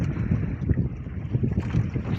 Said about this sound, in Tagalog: medyo lumakas yung hangin mga idol